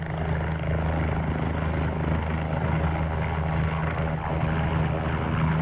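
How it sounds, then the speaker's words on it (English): Engine and rotor drone of an OH-58D helicopter in the X-Plane flight simulator, a steady, even whine and hum that holds unchanged for several seconds with no voices. "Very quiet engine noise"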